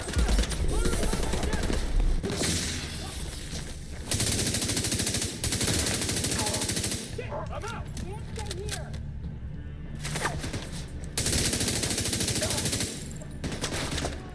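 Sustained automatic assault rifle fire in a shooter video game with a 75-round magazine, loud dense bursts running through most of the stretch with brief gaps, mixed with game sounds and someone talking over it.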